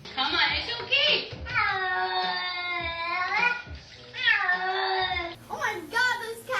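A cat meows and caterwauls in long, wavering drawn-out cries while being bathed, loud and close, with a person speaking soothingly over it.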